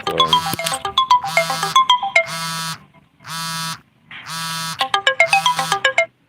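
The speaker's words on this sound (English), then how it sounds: "My phone is telling me the live stream is starting" A phone plays a loud notification jingle for a live stream starting: repeated bright chiming tone bursts alternating with buzzy sustained chords, close and alone, lasting several seconds.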